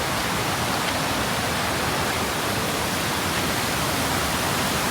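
Bangara Kusuma Falls near Gerusoppa, Honnavar, gives off a constant broadband roar of falling water, loud and steady throughout, with no voices.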